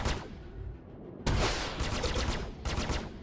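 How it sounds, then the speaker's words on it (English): Ship cannons firing in the space game Star Citizen, sharp bursts of rapid shots in three or four close volleys over a steady background rumble, with no talk. "I'm trying to hit him with my cannon here"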